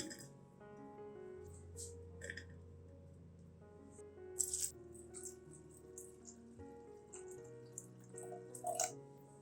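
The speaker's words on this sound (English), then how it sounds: "Place all of the corn kernels into a saucepan with 350 milliliters of water." Corn kernels and water go into a saucepan in a kitchen, with soft splashes, drips and a few sharp clinks of kernels against the pan, set over quiet background music.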